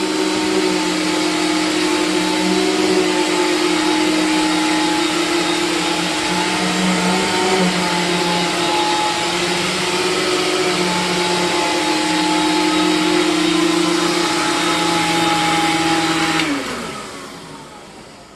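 A TriStar CXL whole-house carpet cleaner runs with a loud, steady motor whine and suction roar for about sixteen seconds, then shuts off and spins down to near silence.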